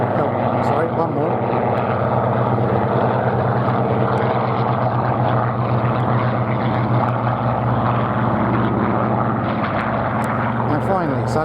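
Spitfire fighters taking off at the Duxford Battle of Britain 75th anniversary air show, a loud continuous piston engine roar filling the whole stretch, steady and close, with crowd chatter underneath.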